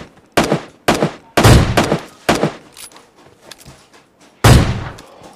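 An AWM sniper rifle firing in PUBG Mobile Lite, heard as several loud sharp gunshots with decaying tails, spaced irregularly, then a final heavy shot after a short gap.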